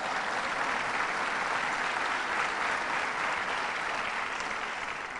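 Continuous crowd clapping for Vince Dinolfo at an airport renovation event, dense and even for about five seconds, fairly distant and with no voices on top.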